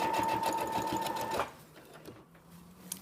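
A sewing machine runs fast and close while stitching a sequined border on a dog dress, a rapid even whir that stops abruptly partway through, leaving near silence.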